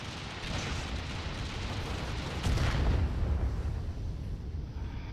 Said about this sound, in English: I can hear the missile